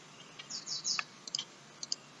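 Soft computer mouse clicks while working in MS Word 2016, a few faint light taps scattered in a quiet room, with a brief cluster near the middle.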